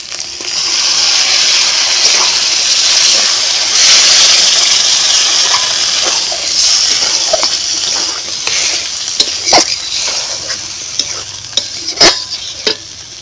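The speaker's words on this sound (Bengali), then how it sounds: "এখন আমি সিদ্ধ করে রাখা ডাল দিয়ে দেব।" Boiled masoor lentils go into a hot pan of eggs fried in spice masala, setting off a loud, steady sizzle that fades into quieter bubbling with scattered clinks and scrapes of stirring.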